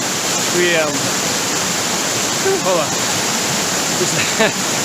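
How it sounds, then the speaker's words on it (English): A mountain creek rushes along the climbing trail toward Rachel Lake, a loud, constant wash of flowing water, with brief voices rising over it a few times. "we're following this creek"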